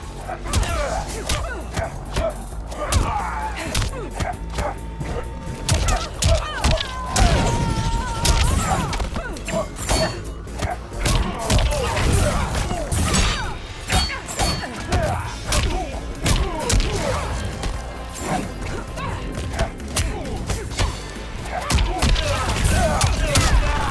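Continuous fighting-game combat in Mortal Kombat 11: dense, rapid thuds, whacks and booming impacts layered over game music and effects, loud throughout with brief voice snippets.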